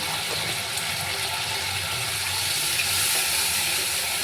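Ghee added to hot oil in a cooking pan sizzles with a steady, loud, close hiss that holds evenly throughout, with no talking.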